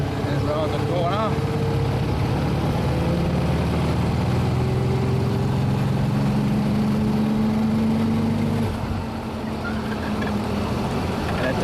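Engine of a 1928 Austin 7 Chummy tourer on the move, a steady buzzing drone that rises in pitch through a gear and then drops off near the end, heard from aboard the open car with a voice speaking over it.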